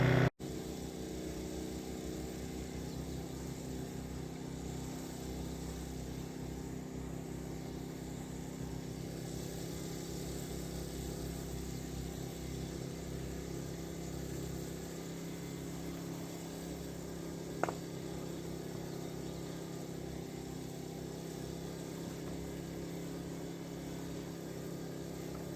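A small red tractor engine idles in a steady, even drone at a cabin, holding a constant low hum for the whole stretch with one brief click midway and no voices.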